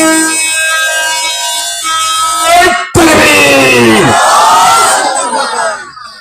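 Crowd at an Islamic tafsir mahfil gathering in Debiganj answering the call with a loud, drawn-out shouted takbir, many voices rising together in unison after a single leading voice, amplified and echoing.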